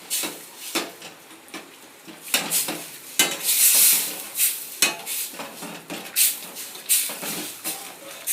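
A spoon scrapes and clinks against a pan in an uneven rhythm while a tomato gravy with added water stirs and sizzles softly underneath.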